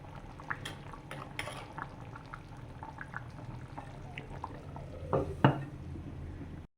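Coconut-based fish curry with mango and kudampuli bubbling steadily in a pot, a low continuous simmer with occasional light scrapes and clinks of a spoon stirring, growing louder near the end.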